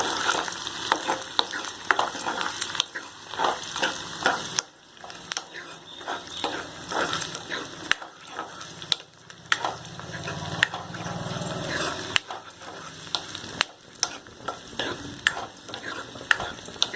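Garlic and curry leaves sauté in a hot pan with constant sizzling and frying, broken by repeated scraping and clattering stirs of a spoon against the metal.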